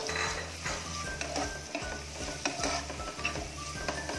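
Onion, tomato and curry leaves are stirred in a pan, with a soft sizzle under repeated scraping and clinking of a utensil against the metal in an uneven rhythm. A low mechanical hum runs underneath, and no one speaks.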